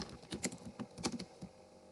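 Computer keyboard typing while data is entered into an Excel table, a quiet run of irregular key clicks with brief pauses, no voices.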